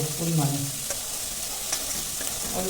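Chicken sizzles in a little butter in a pan, a continuous bright frying hiss with occasional stirring scrapes; a faint voice murmurs briefly at the start.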